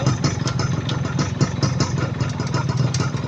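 A Kawasaki GTO 125 motorcycle engine runs close by with a rapid clattering, pulsing beat and uneven throttle as the gears are shifted, loud and steady throughout.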